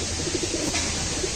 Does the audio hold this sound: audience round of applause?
no